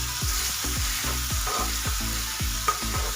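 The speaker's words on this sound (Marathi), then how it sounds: "ती पण आपल्याला तेलामध्ये घालून परतून घ्यायची।" Green chilli garlic paste frying in hot oil on full flame for a Maharashtrian ambat chuka bhaji, with a steady close sizzle and rhythmic spatula strokes about every half second.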